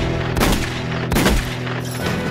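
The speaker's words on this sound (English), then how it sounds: "Gunfire erupts and the horses just bolt." Two or three sharp, loud gunshot bursts crack out about a second apart over a rumbling background.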